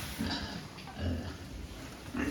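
Pigs resting in their pens let out a few low, quiet grunts spaced through a short stretch, faint against a steady background hiss.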